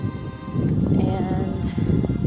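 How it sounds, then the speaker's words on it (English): Wind buffets a microphone outdoors at night, producing loud, rumbling low-frequency gusts and rustling noise for a couple of seconds, with no talking over it. "Sorry about the wind. I didn't realize it was gonna be this windy."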